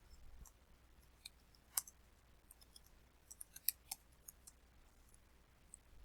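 Sparse, quiet clicks of typing on a computer keyboard, a few isolated keystrokes with a brief flurry in the middle, faint and close against low background hum.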